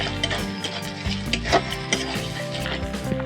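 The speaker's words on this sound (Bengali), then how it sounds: "আদা বাটা দিয়ে দেবো দিয়ে কাঁচা গন্ধটা চলে যাবে তারপরে কিছু নাড়া চালান দিয়ে নেবো" Ginger paste and onions are stirred in a cooking pan for onion dorma: a spoon scrapes and clinks against the metal pan in an irregular rhythm over a close, steady sizzle of frying.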